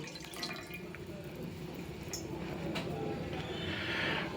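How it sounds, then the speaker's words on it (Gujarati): A glass of water is poured into a metal bowl while cooking Surti veg tapelu, producing a soft continuous splashing trickle close by that grows a little fuller toward the end. "બાઉલની ઉપર હું આવી રીતે એક ગ્લાસ પાણી એડ કરું છું"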